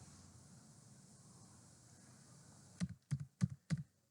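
Short burst of about four crisp keystrokes on a computer keyboard while code is being typed, sharp clicks in a quick uneven cluster following a stretch of quiet room hiss.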